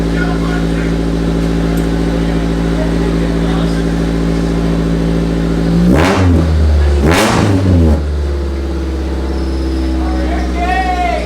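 A Honda Del Sol idles with a deep, steady drone through its old, loud exhaust, then is revved hard twice in quick succession around the middle before settling back to idle.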